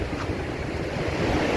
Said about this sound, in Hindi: ये जो पानी आ रहा है खामोश वाटरफॉल का ही आ रहा है